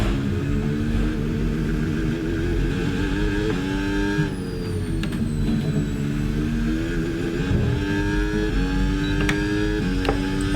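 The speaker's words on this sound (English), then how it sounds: "I'm trying to keep the power in and struggling through the rain as we dip it in the gravel." A Cadillac Formula 1 car in the F1 26 video game races through rain at Belgium, its high engine note rising and dropping with gear shifts and throttle changes, loud and continuous with no talk.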